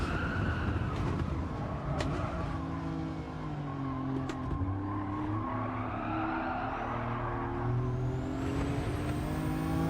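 Racing car engine roaring and shifting pitch under hard braking in a time trial video game, tires squealing and sliding as the car slows, loud and continuous throughout with no voices.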